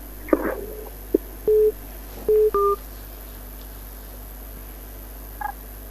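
A telephone number is keyed into a phone to call a live TV prayer program: a handful of short, clean DTMF tones in quick succession, near and distinct over a quiet hum.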